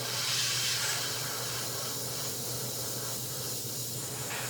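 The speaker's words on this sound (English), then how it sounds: "Got a little crap coming out of my airbrush." Airbrush spraying in a steady, continuous hiss with a slightly rough, sputtering texture, close and fairly quiet throughout.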